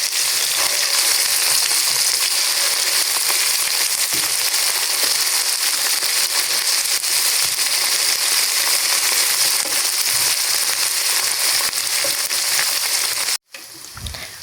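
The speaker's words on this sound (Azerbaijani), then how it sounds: "Soğanı qəşəngcə qovurdum." Onions sizzling and frying in a pan, a dense, steady crackle that stays loud and even for most of the stretch before cutting out abruptly near the end.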